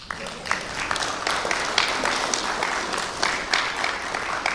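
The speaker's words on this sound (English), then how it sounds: "Yes, you can clap at this point." Meeting audience applauding, a steady wash of many hands clapping at moderate distance, sustained throughout without a break.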